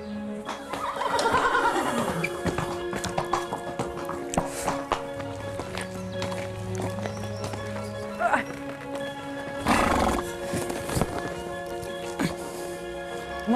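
A horse is ridden along hidden trails in the Brittany countryside of France. Its hooves clip-clop in an uneven rhythm, with a whinny early on, mixed with other ambient sounds.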